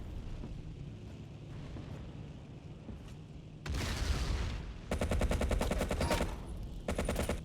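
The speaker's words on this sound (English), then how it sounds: "Now here comes the shots" Gunfire in a Battlefield 1942 match with Thompson submachine guns: loud bursts of rapid automatic fire in several sustained volleys, preceded by quieter background combat rumble, with no talking.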